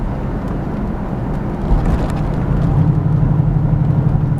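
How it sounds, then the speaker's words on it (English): Hollow exhaust rumble from a 1996 Buick Roadmaster wagon, outlet tucked up under the rear bumper, a steady low drone that swells slightly louder partway through, with no talking. "I think that's why it sounds so hollow, is because it's up underneath the bumper and all that stuff."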